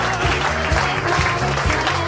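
A live podcast audience claps continuously, a dense loud wash of applause with some crowd murmur underneath.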